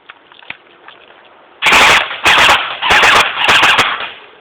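A JG M16A4 RIS airsoft rifle fires four loud full-auto bursts in quick succession, each a dense rapid rattle of shots, close and alone after a quiet start.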